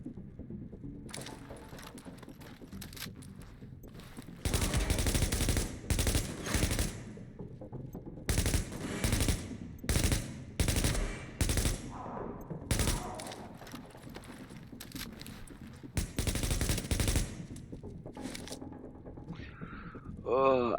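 Enemy gunfire in The Division, repeated bursts of automatic shots in loud clusters separated by quieter gaps, mid-distance, with someone talking between bursts.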